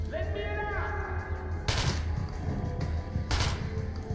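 Gunfire in the video game Metro 2033 Redux, with a couple of sharp, sparse shots spaced apart over low ambient rumble, fired sparingly rather than in a continuous stream.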